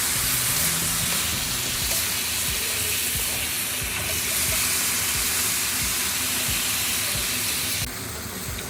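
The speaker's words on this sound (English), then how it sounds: "We're going to stir it around, let it finish cooking through." Chicken stir-frying in a pan for chicken fried rice, a steady dense sizzle and hiss with scattered soft scrapes and clanks as it is stirred, continuous and close, easing slightly at the very end.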